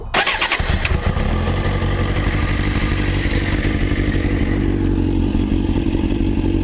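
A motorcycle engine started after its spark plugs were plugged back in catches at once and keeps running loudly and steadily up close, a rough, clattering idle with no talking.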